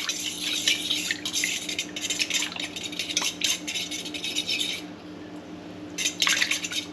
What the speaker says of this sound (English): I just grab a fork and I just dissolve that starter into this warm water